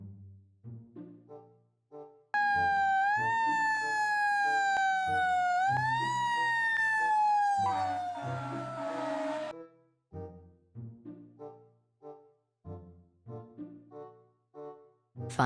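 A toy fire truck sounds a loud electronic wailing siren that rises, dips and climbs again for about seven seconds, followed by bursts of short toy jingle tones.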